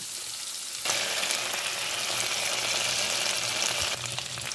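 Garlic sizzling in a hot pan, a faint hiss that swells into a loud, steady broadband fry for several seconds and then eases off as the stove is turned off.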